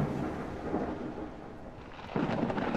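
Steady rain pours with rolling low thunder in the Evergreen Mountain Life Simulator game, a continuous wash that swells louder near the end, with no talking.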